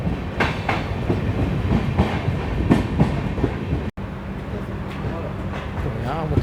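The Narkhed–Kacheguda Intercity Express pulls out of Mudkhed Junction, a station under renovation, its wheels clicking steadily over rail joints beneath a continuous rumble, heard from inside the moving train with faint voices in the background.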